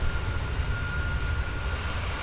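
Boeing 737-800 jet engines in Microsoft Flight Simulator during a night landing approach into Houston, a steady, loud, unbroken roar with a faint high whine running through it and no talk.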